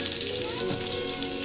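Potatoes and pointed gourd fry in a pan, giving a steady, close sizzle with a dense hiss that holds even throughout, with no talk over it.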